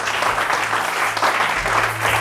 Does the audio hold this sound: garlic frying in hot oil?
no